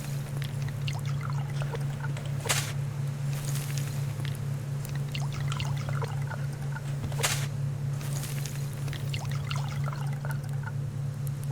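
Water poured onto crops in a video game makes a continuous trickling, splashing pour, with a couple of louder gushes, over a steady low electrical hum.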